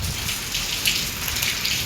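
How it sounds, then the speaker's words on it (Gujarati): Heavy cyclone rain pours down steadily in Bajud, a dense broadband hiss of drops drumming on surfaces with low rumbling underneath, loud and continuous with no pauses. "હવે આ વરસાદે ચાલુ થઈ ગયો છે ધોધમાર"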